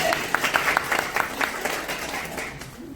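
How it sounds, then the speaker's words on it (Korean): An audience applauds at a Livepure business presentation, with brisk, close clapping that swells at once and then thins out over a few seconds. A faint voice is briefly heard over the clapping. "네, 박수!"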